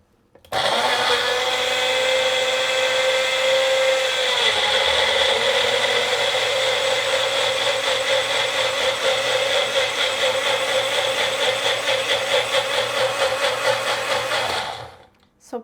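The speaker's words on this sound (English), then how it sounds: "And now let's blend this watermelon." A kitchen blender whirs loudly and steadily as it purees watermelon, lime and water with ice, starting abruptly, shifting pitch briefly as the contents break down, then stopping.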